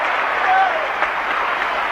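Roaring football crowd at the 1968 VFL Grand Final between Carlton and Essendon, a dense, steady wash of cheering and applause from a packed stadium, loud and sustained throughout with a brief swell midway.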